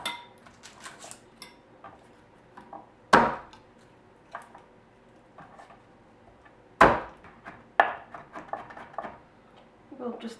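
Knife strikes on a wooden board while garlic is cut for tomato rice, with sharp scattered taps and two loud thuds among lighter clinks of kitchenware in a quiet kitchen.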